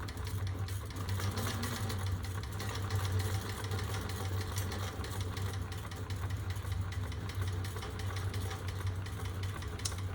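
A sewing machine stitches a fabric bag and backstitches at the start of the seam, making a steady low mechanical hum and rapid needle chatter. It runs continuously and sounds close, with no talking.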